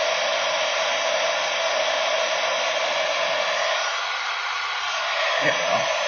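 A heat tool roars with a constant close airflow hiss as it melts embossing powder, holding at the same level throughout with a faint low murmur underneath.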